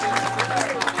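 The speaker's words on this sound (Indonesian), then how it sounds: "Tepuk tangan dulu" Applause from a studio crowd, a short burst of clapping mixed with chatter and talk over it, fairly faint and steady.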